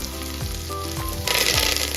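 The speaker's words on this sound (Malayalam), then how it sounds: "പച്ചമുളക് കറിവേപ്പില ഇത്രയും ഇട്ട് നമ്മളൊന്ന് ചെറുതായിട്ട് മൂപ്പിച്ചെടുക്കുക" Ginger, garlic, green chilli and curry leaves sizzle steadily in hot oil for a Kerala-style vegetable curry, with a continuous frying hiss that swells louder partway through as more goes into the pan; no talking.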